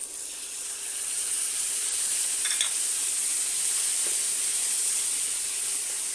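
Ginger, garlic and onion frying together in a hot pan, giving a steady bright sizzle and hiss that holds evenly throughout, with a few faint clinks and no talking.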